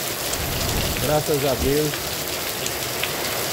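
Heavy rain falls steadily in Santana do Ipanema, Alagoas, a dense continuous hiss throughout, with a short spoken phrase over it.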